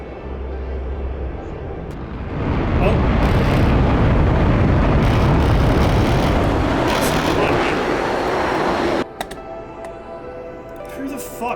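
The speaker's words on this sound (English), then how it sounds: "Brought a fucking missile in here." A missile explosion in the DCS combat flight simulator: a loud, roaring blast that swells and sustains for several seconds before cutting off abruptly, then quieter game noise with faint clicks.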